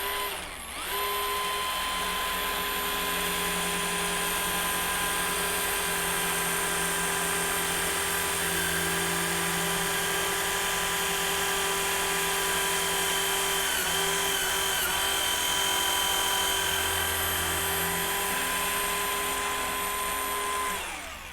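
A Kreg Rebel pocket hole machine drills into hardwood with a loud, sustained high-pitched motor whine and steady grinding that runs for about twenty seconds before winding down.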